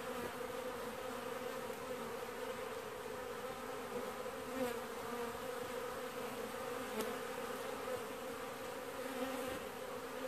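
Many honeybees buzz at the hive in October at 25°C in a steady, close drone that holds unbroken throughout.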